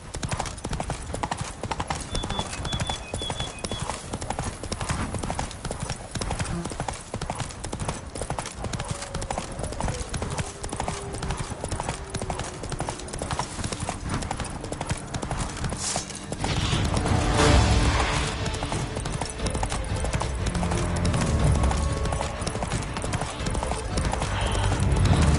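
Roach, a horse in The Witcher 3, gallops with rapid, steady clip-clop hoofbeats throughout, loud and close, growing heavier and more thudding toward the end.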